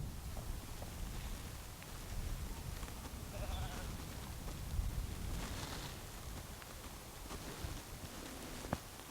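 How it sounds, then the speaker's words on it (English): Sheep bleat faintly in the distance on a steep escarpment hillside in the Brecon Beacons, a few short calls scattered over steady wind noise. "There's some sheep there hanging on precariously."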